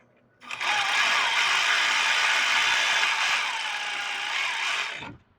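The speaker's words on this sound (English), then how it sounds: "I learned my lesson the hard way with one of these ratchets." A ratchet wrench working on a Mustang's brake caliper bracket gives off a loud, continuous buzzing whir of rapid clicks. It starts abruptly, holds steady for several seconds, then cuts off.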